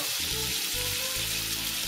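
Butter melting in a frying pan set over a stove flame, a steady soft sizzle and crackle held at an even level close by, with no talk.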